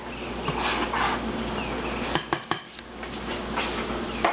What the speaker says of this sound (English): Get your cheese stirred in there.